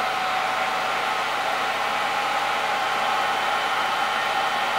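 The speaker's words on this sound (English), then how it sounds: "we'll heat it up with a hairdryer so you can see that it's working" A hair dryer blows hot air onto an Arduino temperature sensor, producing a loud, constant rushing whoosh that stays even from start to finish with no talking.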